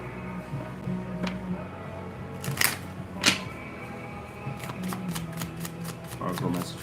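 Oracle cards being shuffled up close, with crisp riffling bursts and sharp snaps scattered through, under a low background hum and faint voice-like tones.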